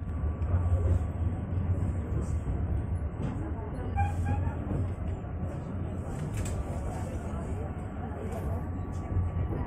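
A passenger train on the Cikuray service rolls into Bandung station on track 6, with a steady low rumble of wheels and carriage noise heard from inside, accompanied by faint chimes and background murmur.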